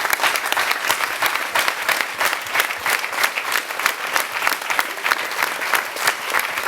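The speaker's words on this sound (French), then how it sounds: "Le président est au fond, je vous demanderai de l'applaudir." An indoor audience at a club show applauds its president with loud, dense, steady clapping that carries on throughout without a break.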